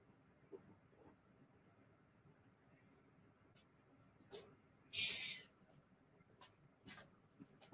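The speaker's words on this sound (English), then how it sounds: "Can you hear the cat yelling at me, Jamie?" A cat lets out a single brief meow midway through a quiet indoor room, with a few faint knocks around it.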